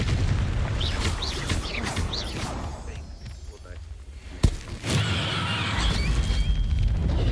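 A Confringo fire spell detonates in Hogwarts Legacy, one sharp loud burst partway through, standing out over a continuous bed of game music and ambient effects.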